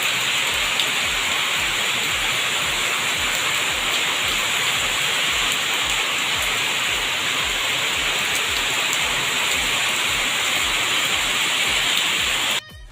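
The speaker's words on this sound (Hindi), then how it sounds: "मोरा आवाज़ नहीं आती हुई इतने बारिश में लेकिन बहुत ज़्यादा पानी गिरा था" Heavy torrential rain pours down steadily and loudly, a dense continuous roar of falling water close by with no voices, cutting off abruptly at the very end.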